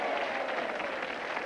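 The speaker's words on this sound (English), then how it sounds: "Give them a clap, everybody." A studio audience claps for children dressed in superhero costumes, producing continuous, close applause that stays even from start to finish with no voices on top.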